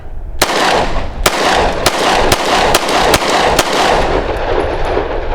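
Pistol shots fired with Federal Punch ammunition, from a Glock G43x or SIG P365, ring out in seven sharp, loud reports at uneven intervals over a steady background of range noise.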